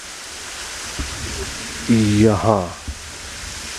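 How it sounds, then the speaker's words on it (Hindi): A waterfall pours from rocks into a large pool in the Himalayan foothills of Narh Valley, giving a constant broadband rush. Someone talks over it briefly, close by. "यहाँ से पानी नीचे इस बड़े से तालाब में गिर रहा है।"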